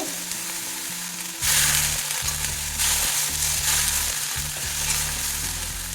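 Bitter gourd cooking in a pan with a little water and turmeric over low gas, a close, steady hiss and sizzle that swells in waves, with faint stirring and no speech.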